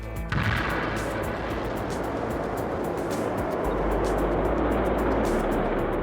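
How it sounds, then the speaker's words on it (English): Solid-fuel rocket motors of the Orion launch abort system firing in a test above a Minotaur booster, a sudden ignition bursting into a continuous, loud, rumbling roar with crackling texture. "3 different types of solid fuel rocket are designed to fire at the first hint of a malfunction in the launcher"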